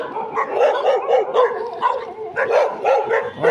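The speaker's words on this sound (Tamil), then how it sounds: "நாய் வேற கத்திட்டே வருதே நண்பர்களே." A dog barks in rapid, repeated yips and bow-wows, fairly close and loud, with some whimpering tones, on a road trip from Tamil Nadu to Manali.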